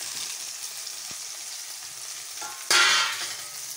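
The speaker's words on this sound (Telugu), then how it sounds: "ఇప్పుడు దీంట్లో బీరకాయ వేస్తాను" Pieces of ridge gourd dropping into a pan of green chillies frying in oil, a steady close sizzle with stirring scrapes that swells into a louder hiss as the gourd goes in.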